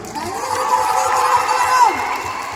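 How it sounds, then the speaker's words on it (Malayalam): A large crowd cheers and applauds at the Thankamani movie launch in a Lulu Mall, a dense, steady roar of voices and clapping with whoops rising and falling, loud and close throughout. "വലിയൊരു കൈയടി ഇവിടുന്ന് തരണം"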